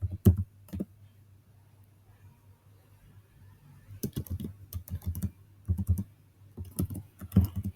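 Password being typed on a computer keyboard: a short burst of key clicks, a pause of several seconds, then irregular runs of quick, close keystrokes, with a steady low hum underneath.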